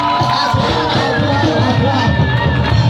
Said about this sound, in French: Est-ce qu'on peut pousser le cri de joie?